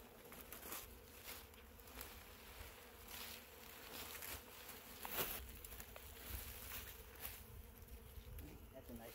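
Honeybees from a fallen bee tree buzz steadily and close, a dense insect hum that holds throughout with light patter and small knocks mixed in.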